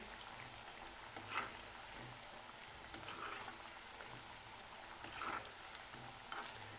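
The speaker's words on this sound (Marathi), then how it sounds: "मी तेलामध्ये अशा पद्धतीनं टाकलेले आहेत बाटे अशा तळून घ्यायच्यात आपल्याला" Baati dough balls fry in oil, a faint, soft bubbling sizzle with scattered small pops and crackles, steady and quiet in the background, with no talking.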